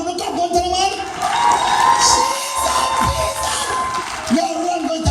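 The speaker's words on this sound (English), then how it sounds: "all the beautiful people, clap yourselves" Comedy club crowd at a stand-up show in Coral Springs, Florida, cheering, whooping and clapping loudly, with a voice talking and shouting over the noise and bursts of cheers rising and falling.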